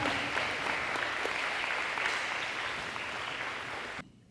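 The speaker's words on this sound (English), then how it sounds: "If we could give a big round of applause for Timothy Hansen." A school audience applauds at a high school fine arts signing day, steady dense clapping that stays full and even before stopping abruptly at the end.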